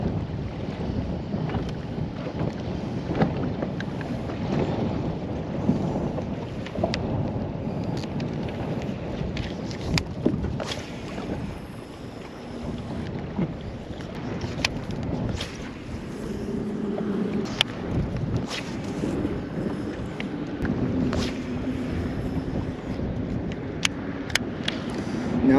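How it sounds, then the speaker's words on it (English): Wind blows steadily across the open California Delta while fishing, a constant broadband rush with occasional gusts and faint clicks, no voices. "It's gonna be a windy one today."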